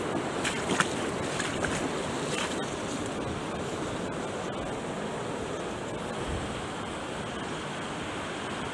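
Floodwater flowing fast over a flooded footpath by a bridge, a steady loud rushing wash with wind buffeting the microphone throughout.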